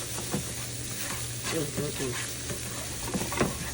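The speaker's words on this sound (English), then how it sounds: "Get out a quick stir." Butter being stirred in a hot pan for Cajun chicken and shrimp shells, a steady close sizzle with scraping spoon strokes and soft clinks over a continuous frying hiss, no talk.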